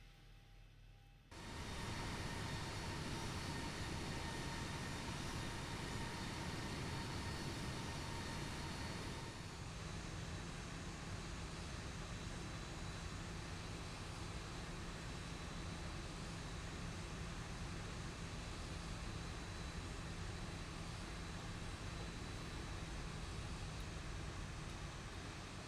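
Boeing 737 jet engines hum steadily at taxi power in the X-Plane 11 simulator, a broad continuous roar with a faint tonal whine that begins abruptly after a short quiet lead-in, steady throughout with a slight level shift partway.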